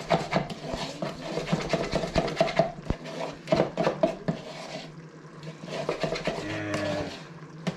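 A spoon stirs a thin batter of flour, baking powder, salt and milk in a bowl, giving repeated scraping, clinking and sloshing strokes in an uneven rhythm, close and fairly loud.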